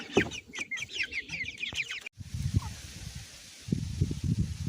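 Backyard chickens, including black-and-white speckled Plymouth Rock hens, cluck and chatter close by, first in a busy flurry of higher calls and then in low, soft clucks, with no talking.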